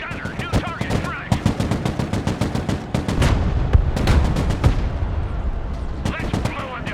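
Rapid bursts of tank machine-gun and cannon fire in the video game Broken Arrow, loud and close, rattling in fast repeated volleys with heavier booms mixed in, voices calling out over parts of it.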